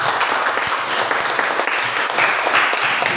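Classroom of children clapping together after a lesson on the forward roll (guling depan) in a school physical education class; dense, steady applause fills the few seconds at close range.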